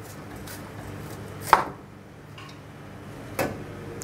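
A knife slices through a cauliflower head to separate its white heart, giving two sharp chopping cuts about two seconds apart against a quiet kitchen background.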